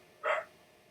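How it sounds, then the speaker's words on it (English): A single short bark from a dog named Bertie greeting another dog passing on the far side of the road, fairly faint and slightly distant against quiet background hiss. "That's the dog."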